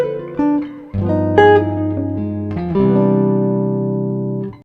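Two jazz guitar licks play back to back, starting with quick picked notes and ending on sustained ringing tones that fade out. The clip is short, clear and close, with no voices.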